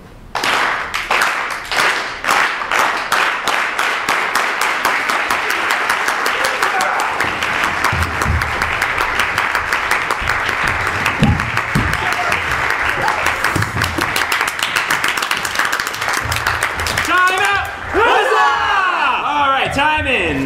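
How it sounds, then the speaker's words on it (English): Audience at a comedy show breaking into a deliberately slow clap, evenly spaced loud claps that speed up into dense applause with whoops and cheers, close and lively throughout. "we're going to start the slow clap"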